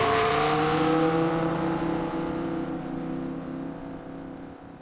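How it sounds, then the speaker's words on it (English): A race car engine roars loudly and then recedes as the car speeds away, a strong revving drone that gradually fades into the distance, with no voices. "I now have a race car with my company logo on it speeding away."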